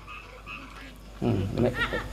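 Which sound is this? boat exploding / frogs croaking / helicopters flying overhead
frogs croaking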